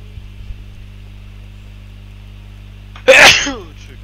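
A single sharp sneeze bursts out near the end, loud and close, over a quiet background of steady electrical hum during a Minecraft server session.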